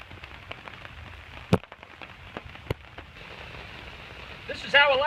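Steady rain patters on a tarp and surrounding leaves in a backyard, with a constant soft hiss, a few sharp isolated drop impacts, and a brief burst of louder activity at the end.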